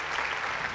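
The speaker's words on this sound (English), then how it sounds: "a big round of applause for the grand jury" An audience at a grand finale event claps for the grand jury, a brief burst of dense, steady applause from many hands.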